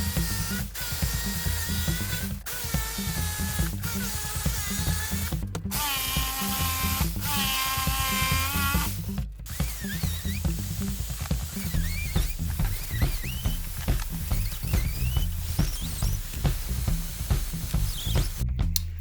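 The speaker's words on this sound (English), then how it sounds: "now I'm gonna cut out the wooden sections with the jigsaw" Jigsaw cutting wooden sections for weightlifting jerk boxes, a loud continuous buzzing cut with brief pauses and restarts between passes, close by, with no talking.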